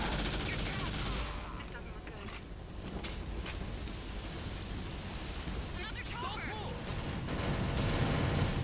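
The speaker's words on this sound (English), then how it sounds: "It's weird to shoot on this game." Gunfire in the game TimeSplitters Future Perfect, a dense rattling barrage of shots running continuously under a busy game soundtrack, with speech over it.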